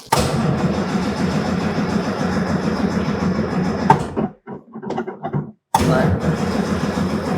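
An old 1939 car, unstarted for many days, cranks and catches into a loud, close, rough engine run, then sputters and cuts out with a few irregular coughs before firing up again and running steadily.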